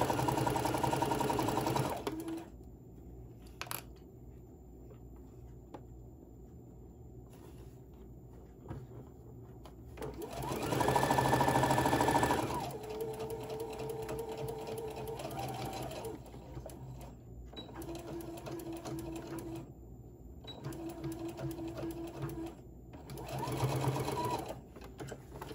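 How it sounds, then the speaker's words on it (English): A sewing machine back stitches fabric for a Santa bag, running in short loud bursts with quiet gaps between them and a faint hum while the machine idles. "I'm gonna do a little back stitch over here too."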